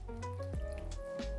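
Ice water pouring and dripping onto salted Little Gem lettuce leaves in a bowl, a few close splashes and drips over a steady tonal background hum, with no talking.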